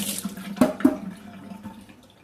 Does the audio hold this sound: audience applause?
no